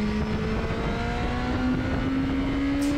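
A Yamaha Fazer motorcycle engine drones steadily with a slowly rising pitch, loud and continuous, accelerating hard on the Le Mans race track.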